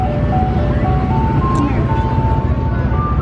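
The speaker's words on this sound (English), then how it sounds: "This is the ice cream truck." An ice cream truck plays its jingle, a thin melodic chime over a low idling engine rumble, heard up close alongside people talking.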